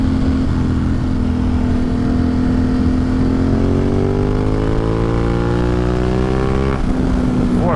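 A motorcycle engine pulls hard in fourth gear on a forest road, its loud, steady drone rising smoothly in pitch as it accelerates, dipping briefly before climbing again near the end.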